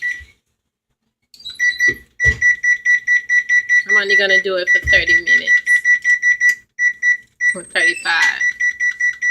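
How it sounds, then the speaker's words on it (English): A digital kitchen timer is set while baking cheesecake, giving rapid repeated high beeps with each button press, steady strings of beeping in between, under a person talking nearby. "I'm going to set my timer."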